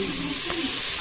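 Chopped onions fry in olive oil in a pot, a close, steady sizzling hiss with a brief clink partway through, no voices.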